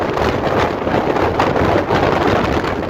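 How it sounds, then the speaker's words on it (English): Strong wind on the exposed summit of Tom Dick and Harry Mountain in Oregon, a loud, continuous roar buffeting the microphone with slight gusting surges and no break. "Woo, it's windy up here."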